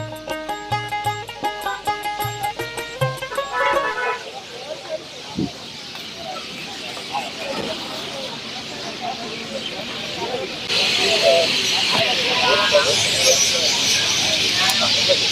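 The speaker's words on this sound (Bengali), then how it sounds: "পাখির ডাক শোনা যায় আমরা আপনাদেরকে শোনাই" Birds chirp and call steadily at dusk beside a rural village market outside Dhaka, faint music at the start, the chorus swelling louder toward the end.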